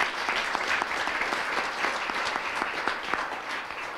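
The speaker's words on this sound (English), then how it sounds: "Will you give that search committee a round of applause?" Steady, dense applause from an indoor audience at a mayor's announcement of a new Denver police chief, thanking the search committee, with many hands clapping continuously at an even level throughout.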